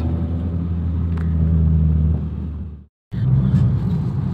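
Honda City 2008 engine with Blackcore fitted, heard from inside on a test drive: a loud steady rumble and drone that swells, then drops out abruptly for a moment before resuming strongly.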